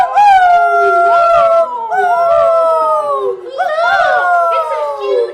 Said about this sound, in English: It's a huge pair of dogs! Yes, listen to them, the children of the night.